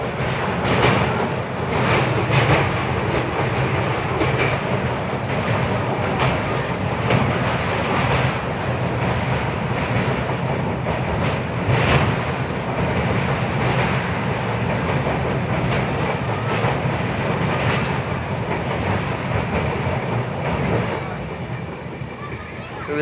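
A 12285 Secunderabad–Nizamuddin Duronto Express runs at speed, crossing the Wardha River near Sirpur Kagaznagar, with a loud, steady broadband rumble and rattle that holds throughout and fades slightly at the end.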